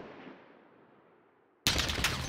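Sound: gunfire from the video game Call of Duty

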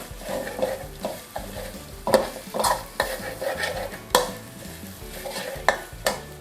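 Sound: stir-frying shrimp paste with garlic

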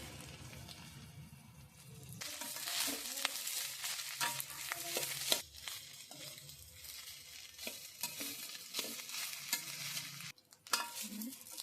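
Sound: stirring leftover rice into jeera rice with lemon in pan

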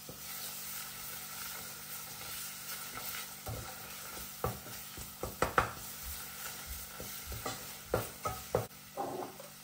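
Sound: sautéing ingredients for arabaşı soup

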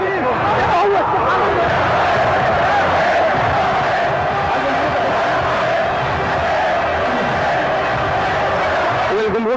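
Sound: stadium crowd cheering for player Barakat

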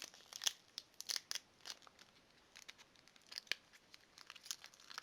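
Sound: Pokemon TCG booster pack wrapper being torn open

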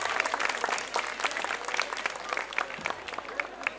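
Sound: audience applause at chestnut festival

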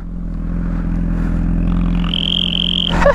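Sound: motorbike engine running with Chinese turbo whistle gadget

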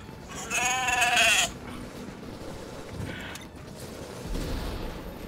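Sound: goat bleating in video game The Division

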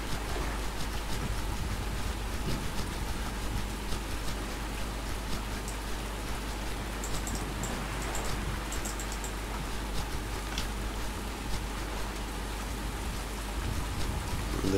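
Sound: rain in the video game Survisland

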